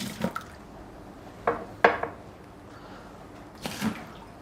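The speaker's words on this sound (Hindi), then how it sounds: "अब मैं इस पानी को थ्रू कर देता हूँ।" Water poured out in a few short splashing bursts with brief drips between them, fairly quiet and heard alone without any talking over it.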